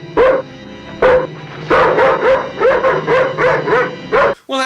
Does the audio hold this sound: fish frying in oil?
no